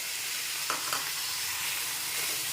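Tender tamarind leaves fry in hot oil with turmeric, giving a steady, fairly faint hiss and sizzle throughout, with two brief soft clicks early on.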